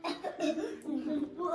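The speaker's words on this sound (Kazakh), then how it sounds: "Жөтеліп жүрсің." A child coughs in short, harsh bursts during a family weekend outing, mixed in with nearby voices and talking.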